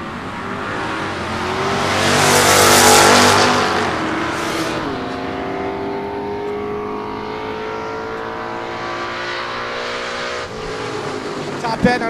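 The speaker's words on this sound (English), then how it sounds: "Jeff Beck going to get the head start in that Chevelle" Drag race launch at a 2012 West Coast Hot Rod Association season finals event: a Chevelle car and a Kawasaki motorcycle roar off the line, rising to a loud revving peak and then holding a steady engine drone, with an announcer talking over it.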